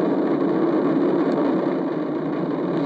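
The Artemis 1 rocket climbs away with its four RS-25 core-stage engines and two solid rocket boosters firing, a steady, dense low roar heard from afar, even and continuous with no speech.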